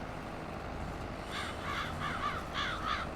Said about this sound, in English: Yeah, bugger off, birds.